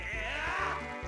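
A goat in the video game Twilight Princess gives a short, loud bleat, close and alone over a steady background.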